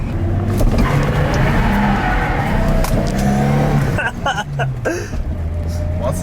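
A BMW E30 with only three usable gears drives loudly close up, its engine droning and revving steadily while the tires appear to slide, with people talking over the noise throughout.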